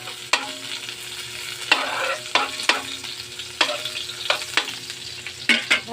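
Garlic and onion frying in a pan, a steady close sizzle broken by repeated sharp scrapes and clacks of stirring at an uneven rhythm, with no talking.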